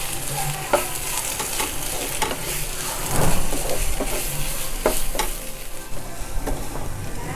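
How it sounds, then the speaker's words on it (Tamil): Pepper prawn fry with green chilli and coriander sizzles in a pan while a spoon stirs and scrapes it, a loud, steady frying hiss close up with irregular clinks and a brief swell midway, and no talking. "கொத்தமல்லி இதையும் சேர்த்து நல்லா கலந்துக்கலாம்."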